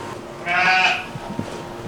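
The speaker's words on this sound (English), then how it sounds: "Here is the main stable where the sheep that are in here are giving birth sooner than the others." A sheep in a stable where ewes are lambing gives a single loud, close bleat lasting about half a second, followed by quieter shuffling and faint stable noises.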